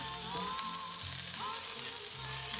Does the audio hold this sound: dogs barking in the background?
no